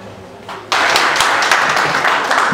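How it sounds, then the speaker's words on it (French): Audience applause at a French-speaking event as the next guest is called up: steady broadband clapping swells in after a brief quieter moment and carries on loud and continuous. "Vos applaudissements"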